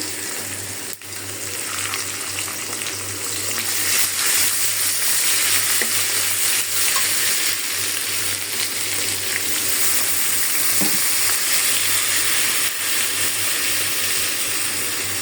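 Loud, continuous sizzling of onions and spices frying in a hot pan for an egg curry, with occasional clinks and stirring noises and no talking.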